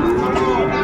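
A cow at a Sahiwal cattle market near Dinajpur gives a short, close, sustained low moo against the background bustle.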